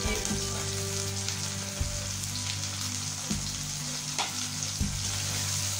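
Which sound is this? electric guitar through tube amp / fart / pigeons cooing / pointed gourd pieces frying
pointed gourd pieces frying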